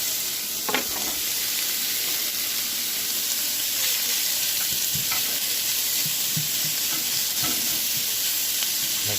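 Taco filling sizzling steadily in a pan over high heat, with a broad constant hiss and occasional scrape-like stirring ticks throughout.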